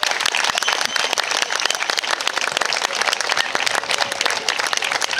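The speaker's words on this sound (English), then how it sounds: "Please, big hand of applause for Mrs." An audience at the opening ceremony of a summer night dog show in Split, Croatia, bursts into loud, dense applause, many hands clapping steadily and close for over five seconds.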